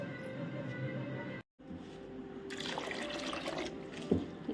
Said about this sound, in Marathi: स्वच्छ 2-3 पाण्याने धुवून घ्यायचा